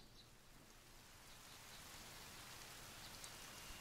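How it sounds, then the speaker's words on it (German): Steady rain falls in the survival video game The Forest, a soft, even hiss of drops that stays quiet and constant and grows slightly fuller toward the end, with no talk. "es regnet"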